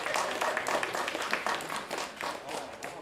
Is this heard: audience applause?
yes